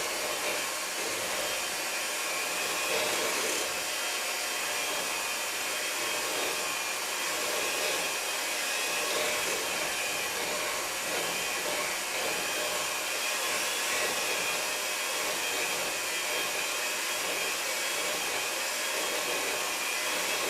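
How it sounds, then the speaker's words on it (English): An electric mixer creams butter with sugar for low-gluten cookie dough, giving a steady, loud motor whir that holds without a break for twenty seconds. "You're actually creaming your butter with your sugar."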